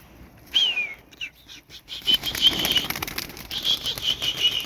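Performance pigeons flap their wings in a quick flurry of takeoff, with faint high chirps scattered throughout.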